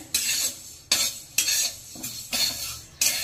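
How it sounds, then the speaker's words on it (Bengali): Mung dal is stirred in a pan until it colours, five or six distinct scraping strokes of a utensil against metal coming at a regular rhythm, close and fairly quiet, with a faint sizzle between them. "তো এইভাবে আমি নাড়তে থাকবো যতক্ষণ না একটা সুন্দর কালার আসে"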